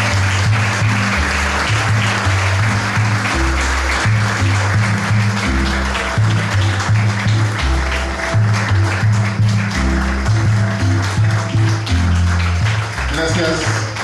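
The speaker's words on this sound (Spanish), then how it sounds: "Gracias por el aplauso a Jorge Apolonio" Steady audience applause fills the clip, with a deep rhythmic musical bass line pulsing underneath the clapping throughout.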